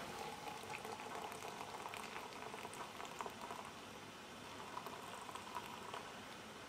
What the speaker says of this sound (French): Je verse le contenu à l'intérieur